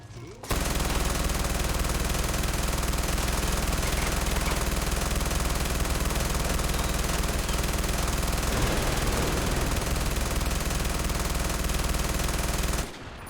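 A machine gun fires in the video game Far Cry 4, a dense, loud, continuous roar of automatic fire that runs without pause for about twelve seconds and then cuts off abruptly.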